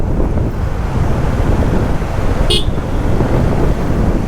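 A swollen river in a hill area rushes beneath a road bridge, a loud, steady broadband roar of churning water that fills the whole stretch without a break, with a brief high chirp partway through.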